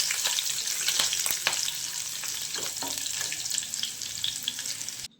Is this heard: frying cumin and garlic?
yes